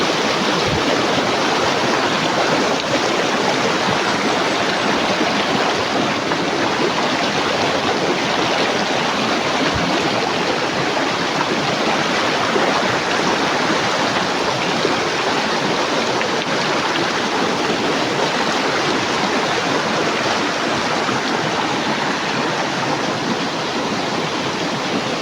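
A creek flows steadily, broadband rushing and splashing water that stays loud and close throughout with no voices.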